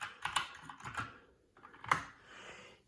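Keys on a Keychron K4 keyboard are pressed in a few quick clicking taps, close and fairly quiet, with a short pause before a final sharper press and no talking.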